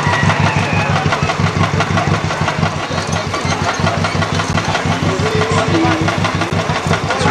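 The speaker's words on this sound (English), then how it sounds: "That's a Hercules two-cylinder engine. They're built on a Ford chassis." Antique car powered by a Hercules two-cylinder engine on a Ford chassis, running steadily close by with a loud, even, chugging engine throb throughout, a faint voice under it.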